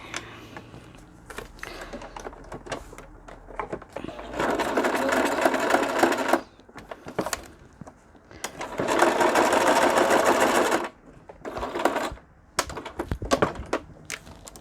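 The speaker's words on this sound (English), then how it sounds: "I'm going to sew it right around the edges. It's going to sew both sides at one time." Sewing machine stitching around the edges of stamp cards, with two long whirring runs and shorter bursts between clicks and handling noises.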